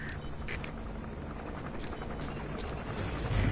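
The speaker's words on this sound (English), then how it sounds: "That's an enemy gunship." Enemy gunship helicopter in the stealth video game Metal Gear Solid V, a steady low rotor rumble and broadband drone filling the scene and swelling slightly louder toward the end.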